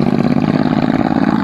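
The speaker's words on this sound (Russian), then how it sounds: "Слышите, да, этот звук выхлопной трубы." Loud, steady exhaust drone from motorcycles ridden by passing bikers on a country road, a close continuous throbbing rumble with no voices.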